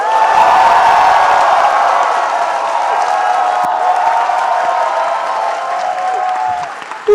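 A large audience shouts, cheers and applauds loudly at a live discussion event, a dense sustained roar of clapping and voices that stays strong throughout before easing slightly near the end.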